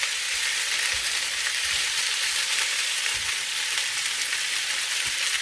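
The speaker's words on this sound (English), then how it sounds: "And just keep that simmering for a little while." Meat and potato pie filling simmering in a pan, a steady hissing sizzle and bubbling that carries on evenly throughout with no voices.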